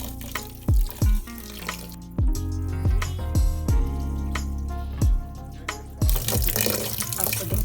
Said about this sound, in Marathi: 3 ते 4 वेळा मी धुवून घेणार आहे स्वच्छ पाणी घालून